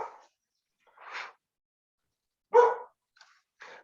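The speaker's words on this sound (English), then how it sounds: "My dog is barking." A dog barks several times at irregular intervals, short sharp barks heard at moderate distance with silence in between.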